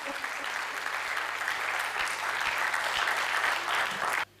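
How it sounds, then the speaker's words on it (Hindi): A crowd at a Hindi comic poetry gathering bursts into loud, sustained applause welcoming a poet to the stage, dense clapping throughout that cuts off abruptly near the end. "जोरदार तालियों से रचनाकार को उनके कद के हिसाब से आप बुलाइए,"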